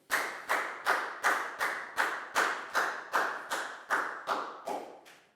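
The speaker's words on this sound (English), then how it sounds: "High five and a big round of applause for Pak Bung" Classroom students clap together in a slow, even rhythm, about fourteen sharp unison claps with brief gaps between, close and clear with no talking.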